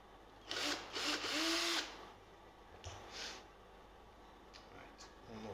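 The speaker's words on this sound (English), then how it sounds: "Just drill that a little bit more." A power drill bores into wood while building a tumbi instrument, with a few loud whirring bursts early on followed by quieter intermittent runs and a voice talking.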